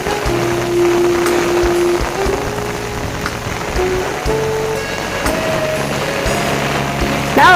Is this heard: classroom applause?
no